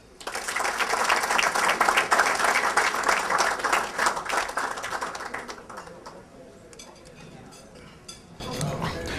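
Banquet guests at a wounded warrior dinner burst into loud, dense applause that rises and then thins into scattered claps, with someone starting to talk near the end.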